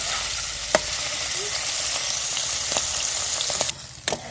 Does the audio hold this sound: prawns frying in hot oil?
yes